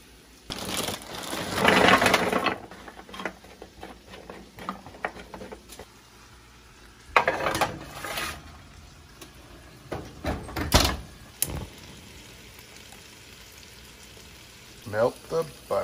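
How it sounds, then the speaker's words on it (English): Butter melts and sizzles in a pan, coming in short bursts of crackling hiss between quieter stretches, joined by occasional clunks and handling noises nearby. "Melt the butter."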